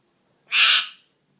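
A pet talking parrot lets out a single harsh, loud screech lasting about half a second, close to the listener, with quiet room tone before and after and no talking.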